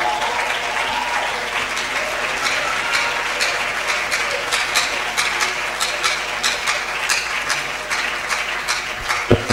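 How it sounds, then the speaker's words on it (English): An audience at a girls' school old girls association gathering rises for a standing ovation, with steady, dense applause that runs the whole stretch, loud and close, with scattered sharp individual claps and faint voices underneath. "Rise up and clap for this woman."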